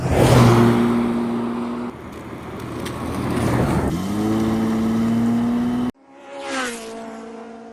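A Jaguar XJ12 Daimler's V12 engine revs up close and loud, its pitch climbing as it accelerates, then cuts off abruptly before a second, shorter rev swells and fades.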